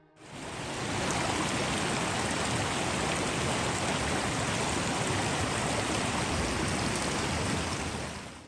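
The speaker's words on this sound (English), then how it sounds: "The river threads through the scene, its gentle, refreshing flow contrasting the chilling tension of the forest." A river flows gently in a forest, a steady, even rush of water that fades in and then holds constant throughout, with no voices.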